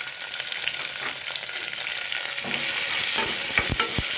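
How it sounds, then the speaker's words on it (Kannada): Onions fry in a pan with curry leaves and roasted peanuts for a quick shavige bisibelebath breakfast, a loud continuous hiss of hot oil that swells midway as scraping stirs rasp through it. "ಈರುಳ್ಳಿ ಸ್ವಲ್ಪ ಟ್ರಾನ್ಸ್ಪರೆಂಟ್ ಆಗೋವರೆಗೂ ಇದನ್ನು ಉರಿಯಿಸಿ"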